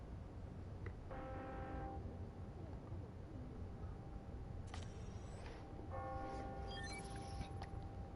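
Bells ringing to mark the hour in the game Spider-Man: Miles Morales, heard faint and distant as two short chiming bursts over a steady background hum of city ambience.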